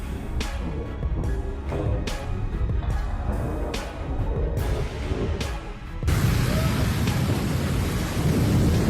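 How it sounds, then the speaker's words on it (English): A thunderstorm with heavy rain and strong winds hits Brisbane: steady loud rain hiss with repeated sharp thunder cracks, then a surge into a denser, louder downpour. "The sun vanished behind black storm clouds, and Brisbane was swallowed by heavy rain and strong winds."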